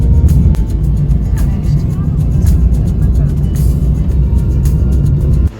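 A car carries passengers from Bhubaneswar station toward Puri in the rain, its steady low road rumble and tyre hiss filling the cabin continuously and loudly, with occasional faint ticks on top.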